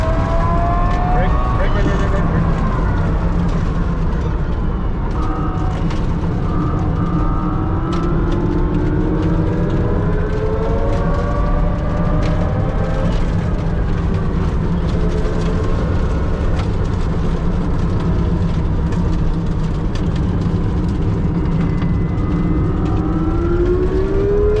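Rimac Nevera prototype electric hypercar drives on a private track, a continuous whining motor tone that rises and falls with speed under steady road and wind roar, with occasional voices from the cabin.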